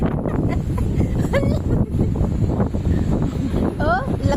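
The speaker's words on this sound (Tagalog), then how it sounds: "Oh, lakas ng hangin dito." Steady, loud wind buffets the microphone in a constant rush, while voices talk and call out over it.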